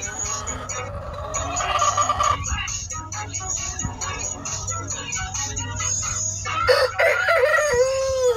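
A rooster crows loudly nearby, with hens clucking and other chickens calling in a busy farmyard chorus.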